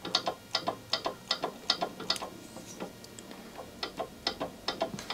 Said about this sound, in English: So now I'm sort of free on the crankshaft and just turning it.